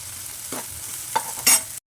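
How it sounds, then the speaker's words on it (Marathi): Chopped garlic and green peas sautéing with onion in a pan, a soft continuous sizzle broken by a few short stirring scrapes and a brief louder burst before cutting off. "हिरवे वटाणे घालायचे चांगलं परतून घ्यायचं"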